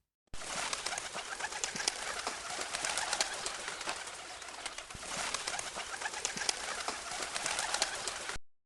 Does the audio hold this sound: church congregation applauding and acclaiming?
no